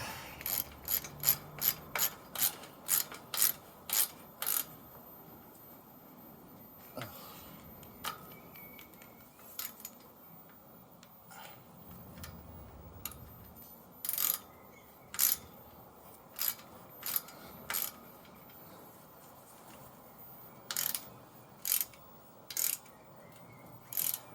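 Ratcheting clicks from a spanner tightening the fittings on a child's swing, coming in quick bursts of sharp mechanical ticks, with pauses and a few isolated clicks between the bursts.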